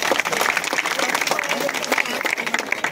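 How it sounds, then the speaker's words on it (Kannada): A crowd claps loudly at the stage inauguration of a Beeralingeshwara idol consecration and kalasha ceremony in Kalaburagi, with applause mixed under a speaking voice. "ಎಲ್ಲರೂ ಜೋರಾದಂತಹ ಚಪ್ಪಾಳೆಯೊಂದಿಗೆ"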